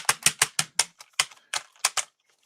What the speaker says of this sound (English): You can bang on the keyboard.